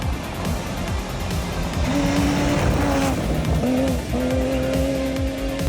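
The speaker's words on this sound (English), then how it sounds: "John Nelson from Marlborough was on the gravel in his Shell livery-inspired Subaru." Shell livery-inspired Subaru rally car on gravel during an H6 Cup event, its engine roaring steadily near and loud with rising gear notes and shifts throughout, no voices.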